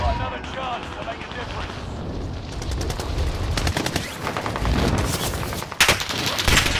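Rapid bursts of automatic gunfire in a video game, loud and dense, coming from more than one direction, rising toward the end with sharp clustered shots, while voices talk over the action.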